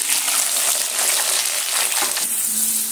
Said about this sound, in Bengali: সরিষার তেল গরম হয়ে গেছে, এবার সেই ডুমো করা আলুগুলো আমি তেলের মধ্যে দিয়ে দিচ্ছি